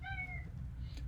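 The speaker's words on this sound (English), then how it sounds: "That's my cat." A house cat gives a single clear meow, close and fairly loud, its tone sliding downward before trailing off over a low background hum.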